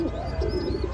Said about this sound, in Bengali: এটা আমার ফার্মের অনেক পুরনো কবুতর